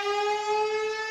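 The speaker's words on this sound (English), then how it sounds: "The fire department siren test went off." A fire department siren test sounds as a steady, sustained tone with strong harmonics, loud and unbroken across the short stretch, with no talking over it.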